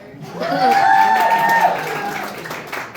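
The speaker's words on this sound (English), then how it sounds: "you gotta keep the clapper going until we get up here" A comedy club audience claps and cheers to welcome a comedian on stage at a New Year's Eve show, steady and loud throughout with whoops and tonal shouts rising above the applause.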